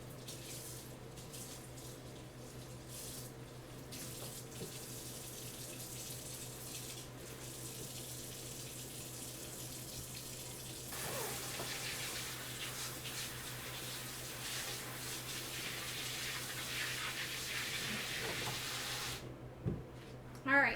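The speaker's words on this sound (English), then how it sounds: "I just want to get the water running on it" Water runs steadily from a tap into a sink during a chalk-paste crafting session, a constant hiss filling the background for most of the span, growing a little louder toward the end before cutting off.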